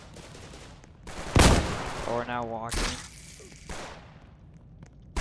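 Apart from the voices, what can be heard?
gunshots in video game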